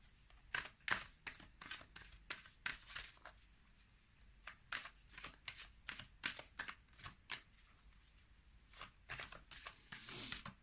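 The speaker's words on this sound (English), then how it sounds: "Let us pull one more oracle card." Oracle cards are shuffled and pulled in a string of crisp, papery riffs and flicks, close and fairly quiet, with irregular bursts and short pauses and no voice over them.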